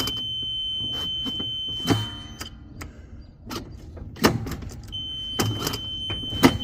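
An electric golf cart, earlier wrecked, is backed off a trailer: scattered clunks and thumps of the cart rolling and bumping down, a faint steady electronic whine throughout, with no talk.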